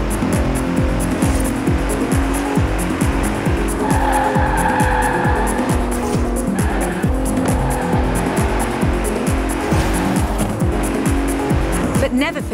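A Bentley Continental races in Forza Horizon 4, its engine roaring loud and close through repeated gear shifts while tires squeal and skid under hard cornering.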